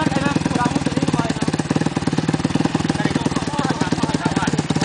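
A vehicle's engine revs hard while stuck in mud, a loud, close, rapidly pulsing throb that holds steady throughout with no talk.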